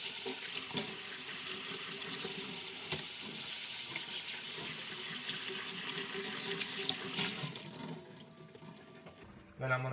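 Tap water runs steadily from a faucet over a vintage snapback hat being rinsed in a sink, a continuous close splashing rush that breaks up and fades near the end.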